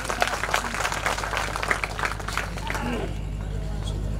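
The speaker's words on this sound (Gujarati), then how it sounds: "જોરદાર સોંગ તાળીના ગડગડાટ સાથે." Audience applause after a song at a Gujarati dayro folk performance in Kutch, a burst of dense clapping that fades away after about three seconds, with crowd murmur underneath.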